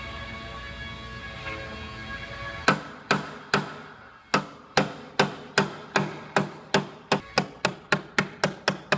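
Metal rod hammering a bulge out of an Acura TLX car body panel: a steady run of about fifteen sharp, ringing metallic strikes, close and loud, speeding up slightly, after a few seconds of humming shop noise.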